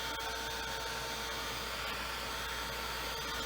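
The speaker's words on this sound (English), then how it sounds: "Let's see if I can reach my dryer." A heat dryer blows hot air to dry paint on a silk screen. Its steady, loud whirring hiss runs unbroken for several seconds, close by and alone, with no talk.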